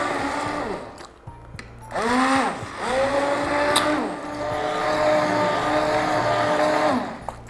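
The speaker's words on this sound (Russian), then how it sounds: "Смотрите, у нас погружной блендер." An immersion blender whirs through cooked zucchini caviar in a pot. The motor whines loud and steady for several seconds, with rising and falling pitch swoops as the blade works the vegetable mash.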